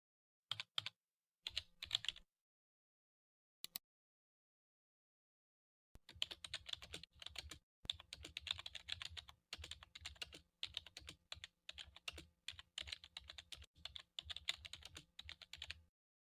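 Typing on a computer keyboard: a few short bursts of key clicks, a pause, then a long steady run of rapid keystrokes, close and fairly quiet.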